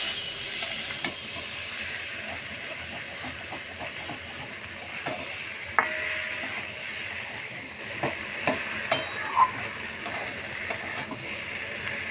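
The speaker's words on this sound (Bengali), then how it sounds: "আলুটা দিয়ে কষে নেবার পর আমি এই ভেজে রাখা চিংড়ি মাছগুলো এর সাথে দিয়ে দেবো।" Fried prawns and potatoes are stirred together in a curry pan over a steady hiss of sizzling oil. The spatula clicks and scrapes against the metal, with a few louder knocks near the end.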